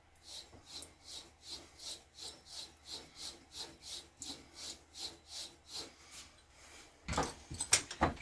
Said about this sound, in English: I'm going to strop it on felt